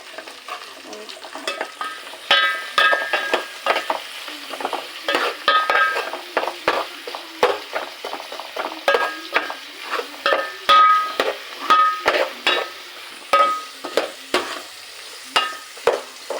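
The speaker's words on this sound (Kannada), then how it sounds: "ಈಗ ಈರುಳ್ಳಿ ಹಾಕ್ತಿದೆ." Onions fry in a pan under a constant sizzle while a spatula scrapes and stirs in quick, repeated strokes, close and fairly loud, with no talking.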